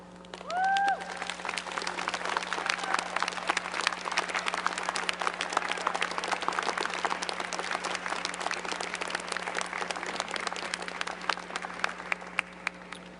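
Graduates at a 2013 commencement ceremony applaud their supporters, a dense, steady clapping from a large crowd that starts within the first second and keeps going at full strength for the whole stretch.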